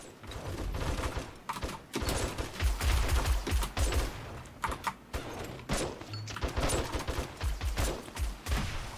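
Rockets and heavy weapons fired during a 7 Days to Die horde night, a near-continuous barrage of sharp launches and blasts with irregular rhythm, loud and close throughout.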